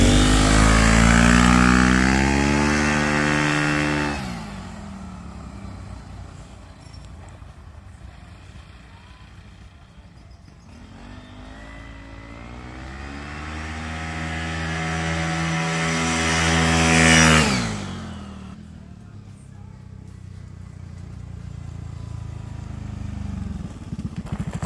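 A 2024 Aprilia SR GT 200 scooter engine with light variator rollers revs up twice from idle, each rise climbing to a loud high whine before dropping back to a low idle, close by and alone.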